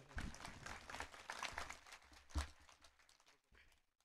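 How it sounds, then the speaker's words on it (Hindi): Audience applause greets a young speaker, Areesha Bint Mumtaz, taking the stage at a speech event; quiet, scattered clapping with a brief louder swell midway before fading out. "के लिए जोरदार तालियां बजा दीजिए।"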